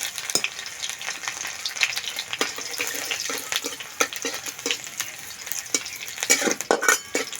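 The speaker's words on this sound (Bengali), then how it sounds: "সর্ষের তেল তেলে দেবো কালো জিরে শুকনো লঙ্কা থেতো করা রসুন" Nigella seeds, dried red chillies and crushed garlic sizzle in mustard oil in a kadai, a light crackling fry punctuated by sharp stirring clicks and scrapes, fairly quiet and close.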